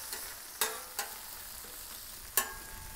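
Minced garlic on a hot Blackstone griddle gives a faint, steady sizzle, broken by a few sharp spatula scrapes and taps against the flat metal surface, close by and with no speech.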